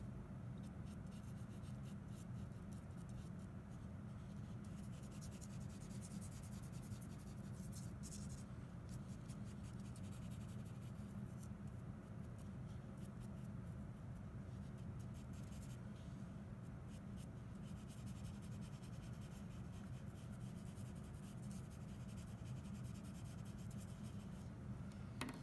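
Charcoal sketching fabric folds on paper, a soft, continuous scratchy rubbing of the stick across the sheet, faint and steady throughout.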